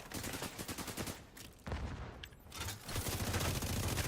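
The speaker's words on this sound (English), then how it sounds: "Hostile artillery turret detected." A hostile artillery turret fires in a video game: dense, rapid, booming shots in a continuous barrage with a brief lull partway through, heavy and fairly close, with no voices.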